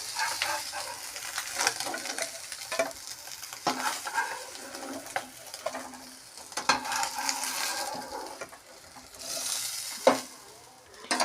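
Omelettes fry in a pan with steady sizzling and intermittent stirring scrapes and utensil clinks, fairly close and moderately loud, with no talking.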